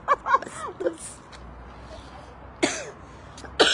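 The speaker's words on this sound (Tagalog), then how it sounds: "Ubo ka more." Several short, sharp coughs and throat-clearing bursts in bursts near the start and end, close to the microphone outdoors in a natural spot, separated by a quieter stretch with faint background.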